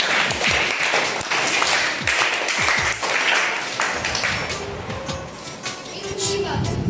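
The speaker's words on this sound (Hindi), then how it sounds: "ध्रुव के लिए तालियां हो जाए।" Schoolchildren clap for a classmate at a school Hindi event, close and lively with dense, uneven claps and some chatter mixed in throughout.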